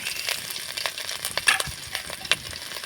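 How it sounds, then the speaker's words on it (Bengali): Grated ginger fries with panch phoron and broken dried chilli in a hot karai, a light, crackling sizzle with a few brief stirring ticks and pops, fairly faint and without talk. "আদাটা একটু হালকা করে ভেজে নেব"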